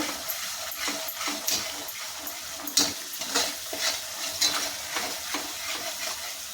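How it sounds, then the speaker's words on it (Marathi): Spice masala fries in oil in a pan, a steady close sizzle broken by repeated scraping and stirring strokes from a utensil and occasional sharper clinks against the pan. "मसाला चांगला तेल सुटेपर्यंत भाजून घ्यायचा"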